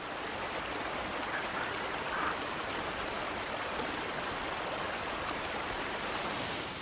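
Steady rushing water roars continuously from a forest waterfall in the film A Quiet Place, a dense, even hiss without breaks, heard from a short distance.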